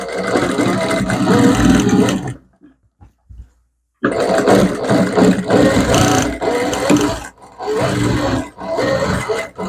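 A sewing machine stitches a work-embellished spaghetti blouse in loud, close whirring runs, stopping for a silent pause and then running again in several bursts.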